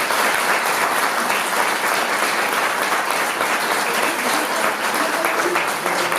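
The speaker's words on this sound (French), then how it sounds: "Et je vous demande de l'applaudir." An audience applauds at a French National Order of Merit decoration ceremony, a dense, continuous burst of clapping from many hands at steady loudness throughout.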